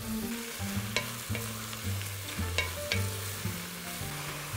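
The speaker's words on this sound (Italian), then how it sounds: "A questo punto andiamo ad aggiungere i funghi." Mushrooms frying in a pot for mushroom and chestnut soup, with a steady sizzle under repeated scraping stirs and soft knocks of the spoon against the pot, close and continuous.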